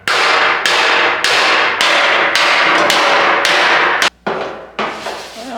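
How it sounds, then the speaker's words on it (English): Rapid hammer blows ringing on a steel 1967 C10 truck fender held on a dolly, dense steady bursts, close and loud, with a brief pause near the end before the striking resumes. "This hammer's got a little bit of a rounded end on it."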